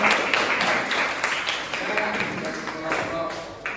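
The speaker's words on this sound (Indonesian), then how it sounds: "Oke, kasih tepuk tangan untuk kelompok" A classroom group is given a round of applause, a spread of light, patchy handclaps rattling along for a few seconds while voices talk over them.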